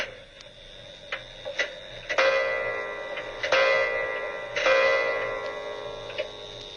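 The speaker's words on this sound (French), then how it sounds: "découvrit au fond d'une armoire une vieille horloge." An old clock found at the back of a wardrobe ticks in a steady, close rhythm, with several loud ringing chime strikes that sustain and fade between the ticks.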